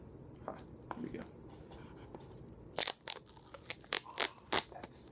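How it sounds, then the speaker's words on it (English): Tape being peeled off new Apple 85W MagSafe Adapter packaging: quiet rustling and small crinkles, then a run of loud, sharp ripping tears in quick bursts near the end. "taking off tape off of new electronics"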